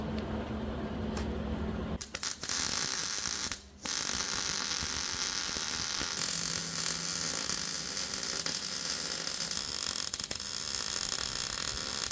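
A welder's wire feed mechanism whirs and buzzes continuously during a test run, a steady mechanical drone with a few short clicks and brief dropouts near the start, close and fairly loud, with no talk.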